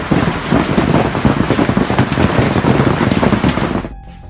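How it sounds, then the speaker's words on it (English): Large hailstones pound down nonstop in a dense, loud, roaring clatter with no pauses, cutting off abruptly near the end. "Large hailstones pounded down non-stop, sending tourists scrambling for cover beneath nearby roofs."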